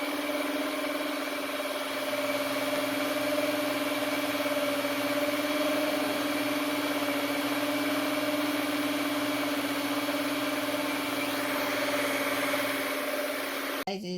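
A machine whips heavy cream into butter with a steady, continuous motor hum that stays even and unbroken throughout, with no talking.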